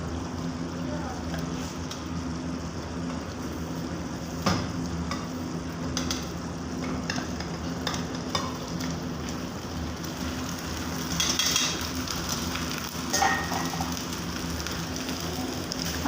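Rice is stirred into sugar syrup in a pan for zarda chawal, giving a continuous soft bubbling sizzle with occasional scraping clinks of the spoon, at moderate loudness.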